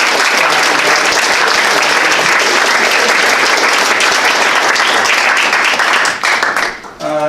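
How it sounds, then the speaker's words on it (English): An indoor audience applauds the first City of Logan Poet Laureate at a creative writing and art awards event, with dense, loud, sustained clapping that fades out near the end. "can we please have a big round of applause for our first City of Logan Poet Laureate, Star Holbrook"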